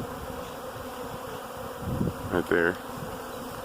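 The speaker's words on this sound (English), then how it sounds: "So we've got these couple bees that are still dwindling right here." Honey bees buzz around a hive box outdoors, a steady hum under background noise with a few louder passes as individual bees fly close to the microphone; a person speaks briefly.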